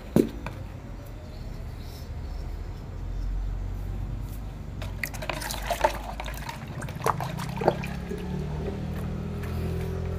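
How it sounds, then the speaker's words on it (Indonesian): Water trickles and splashes continuously as a potted Dieffenbachia houseplant is watered, with a steady soft gurgle and a few brief drips and splashes over it. "Ayo kita siram"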